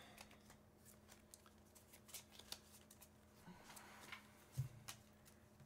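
Cards are shuffled by hand at a table during a card game, giving quiet, scattered ticks and soft rustles at low volume with no voice over them.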